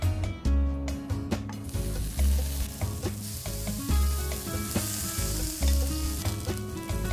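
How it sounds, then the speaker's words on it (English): Vegetables searing in a hot pan in a hotel kitchen, a bright steady sizzle over deep rhythmic rumbling thuds and clatter as the pan is worked, close and fairly loud. "Now I'm gonna show you how to sear the vegetables."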